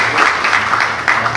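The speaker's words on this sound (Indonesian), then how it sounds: "tepuk tangan buat Pak Menteri" An audience at an Indonesian football association press event briefly applauds the minister, a short, dense patter of clapping that swells in small waves.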